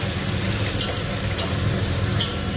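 Food frying in hot oil while a biryani is being prepared: a steady, close, dense sizzle with a few brief sharper crackles, continuous throughout with no talking.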